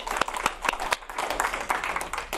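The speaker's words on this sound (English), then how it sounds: "give another big La Cañada quiz and a round of applause" A small group claps at the close of an Alcoholics Anonymous meeting, giving a brief, sparse round of applause with distinct individual claps, moderately near and with no talking.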